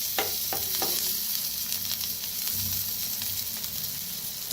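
Soft eggplant slices fry in oil in a pan with a loud, steady sizzle. A few sharp clicks near the start sound like the slices being turned or stirred.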